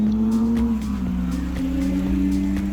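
A Caterham race car idles and pulls away toward the grid, its engine a steady, loud droning hum with a gently rising pitch, close by and without talk.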